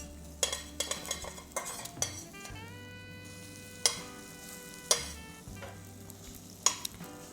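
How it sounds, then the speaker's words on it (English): Scrambled eggs with onion fry in a pan under a soft, constant sizzle, broken by repeated sharp metallic clicks and scrapes of a utensil stirring and flipping the egg, close and fairly loud. "I'm just going to keep on rotating the egg like this, flipping it, making sure that the running part of the egg gets to the bottom of the pan and cooks."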